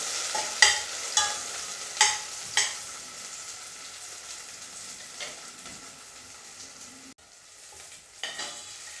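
Onions and spices sautéing in a pan for a spicy Sri Lankan drumstick curry: a soft steady sizzle broken by several sharp spatula clacks against the pan, then quieter stirring, close by and without speech.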